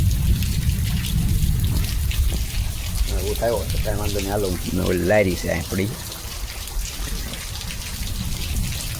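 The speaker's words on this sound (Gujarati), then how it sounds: "જો વરસાદ ચાલુ છે." Outdoor rain after two days of steady downpour keeps up a continuous hiss and patter throughout, close and fairly loud. Someone speaks briefly over it in the middle.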